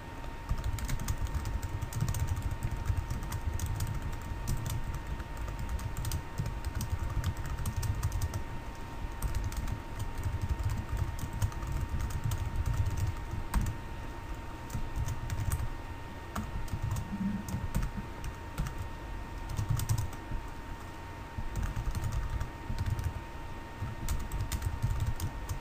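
Steady typing of code on a computer keyboard, a quick run of soft close clicks and key taps over a faint hum, continuing without pause and with no speech.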